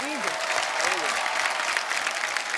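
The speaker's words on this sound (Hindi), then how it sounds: "जोरदार तालियां हो जाएं" Studio audience on a Hindi comedy talk show bursts into sustained applause, dense steady clapping with a voice briefly audible over it at the start.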